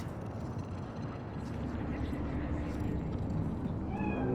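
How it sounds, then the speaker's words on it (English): A cat meows in the open-world video game Cyberpunk 2077, a single faint, short call rising at the very end over a low steady ambient rumble. "Fine-looking feline. Thought they'd all disappeared from the city."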